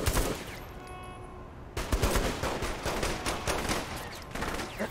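Gunfire from a flashlight-mounted gun in Saints Row, starting with a brief shot and then turning into a dense, loud run of rapid shots close by from about two seconds on, with no talking.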